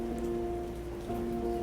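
Rain in the video game South of the Circle patters steadily on surfaces while soft sustained musical tones hum beneath, with no voices.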